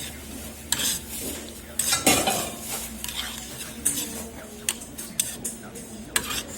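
Milmyeon noodles being mixed in a bowl at a Busan noodle shop, irregular clinking and scraping of utensils against the bowl with wet stirring sounds, close and busy, scattered strokes over a low room hum.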